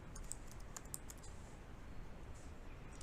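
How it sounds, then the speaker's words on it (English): Fingers tap out a name on a computer keyboard, a few quick, faint key clicks in a short burst over a quiet room hum. "if I type any name"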